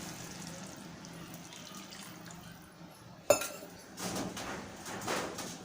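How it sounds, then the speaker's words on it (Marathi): Half a pot of hot water is poured into a simmering Malvani-style cauliflower curry with coconut paste. A soft clink comes first, then a rushing, splashing pour that rises out of quiet kitchen background. "इकडे आपण अर्धा तांब्या गरम पाणी घेतले ते टाकूया।"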